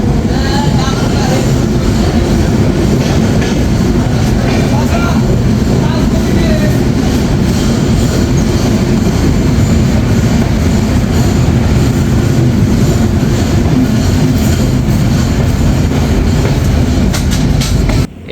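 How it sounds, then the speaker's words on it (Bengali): The Drutojan Express arriving at Tangail railway station at night: a loud, continuous rumble of rolling railcars with a rhythmic clatter of wheels, sustained and close throughout. "প্রায় পনেরো মিনিট লেটে ট্রেনটি প্রবেশ করলো তার তৃতীয় স্টপেজ টাঙ্গাইল রেলওয়ে স্টেশনে"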